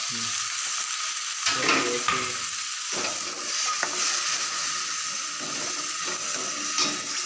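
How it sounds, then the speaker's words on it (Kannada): Chicken manchurian with tomato ketchup is stirred in a hot pan, a constant sizzling hiss broken by repeated scraping and clinking strokes of a spoon, close and steady with no talking. "ಟೊಮೆಟೊ ಕೆಚಪ್ ಹಾಕಿ ಚೆನ್ನಾಗಿ ತಿರ್ಬೇಕು"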